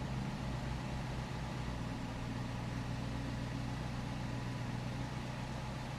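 A V8 Dodge Charger idles steadily with a low, even rumble, its revs dipping slightly and then recovering, close by with no talk.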